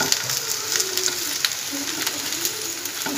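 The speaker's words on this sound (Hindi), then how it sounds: "तो भिंडी हमारी फ्राई हो चुकी है, आप देख सकते हैं।" Okra frying in oil in a pan for a spiced bhujia bhindi dish, a steady dense sizzle with crackling pops running throughout at close range, no voices.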